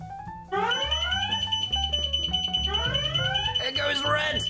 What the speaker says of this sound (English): This siren's about to go off because I've triggered the alarm.